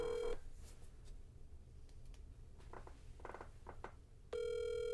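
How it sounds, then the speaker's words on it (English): A telephone call rings out on the line, one ringback tone at the start and another at the end, with quiet faint sounds and soft shuffles in the gap and no talking. "He answered last time. He did for 8 seconds. Is he going to answer?"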